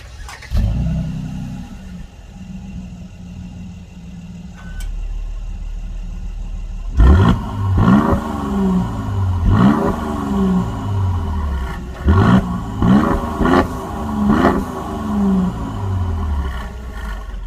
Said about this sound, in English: And while we're looking at the exhaust, hey, why not take a listen to it?